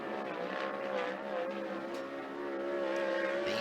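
A 360 sprint car screams around Skagit Speedway on a qualifying lap, its high-revving engine droning steadily at a distance with a slight rise and fall in pitch.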